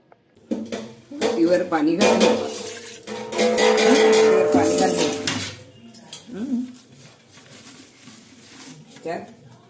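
A spoon scrapes and clanks around a metal pot as ingredients for dinkache ladoo are mixed together, the clattering strokes coming in uneven bursts with a voice talking over them.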